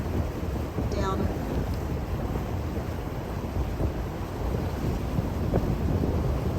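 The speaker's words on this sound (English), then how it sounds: "The wind is kicked up, so it's a little windy now." Wind buffets a boat cruising on Kentucky Lake toward a marina, a constant low, rumbling roar pressing on the microphone throughout, with faint engine and water noise beneath.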